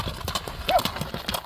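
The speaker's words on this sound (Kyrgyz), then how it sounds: "Болот, Бир бастырып, чабып көрсөк болобу бир?" A large horse's hooves clip-clopping in a quick steady rhythm while being ridden, with a brief whinny-like cry partway through and people talking nearby.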